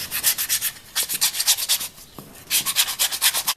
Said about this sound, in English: I can now sand off the edge and get a nice round edge